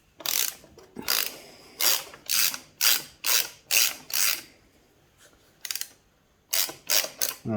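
A hand ratchet clicks in rapid bursts while loosening a bolt on a 1983 Honda QR50 motorbike, about a dozen close, crisp strokes with short pauses between them.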